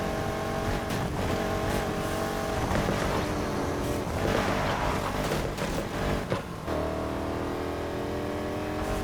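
Dodge Challenger SRT8 2014 engine in a Need for Speed Heat circuit race roars loudly, revving up and down through gear changes with brief tire squeal, a continuous close-up drone across the whole stretch.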